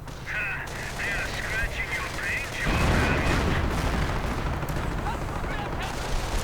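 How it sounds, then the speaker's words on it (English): Artillery barrage in a WWII strategy game, a dense rolling rumble of repeated booms that swells louder after a tonal hum fades, continuing as a sustained roar of distant gunfire. "Artillery firing again."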